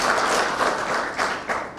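Audience at a Kenyan political rally applauding as Ketu Waruguru stands, a short burst of dense, steady clapping heard alone, moderately loud.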